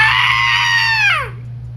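A single loud, drawn-out goat scream that holds a harsh, bleating pitch before sliding downward and cutting off.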